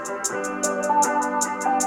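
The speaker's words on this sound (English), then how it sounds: "Simple two-step hi-hat pattern" Simple two-step hi-hat pattern with alternating loud and quiet hits, programmed in Ableton Live, ticking steadily over a sustained chordal pad bed for about two seconds.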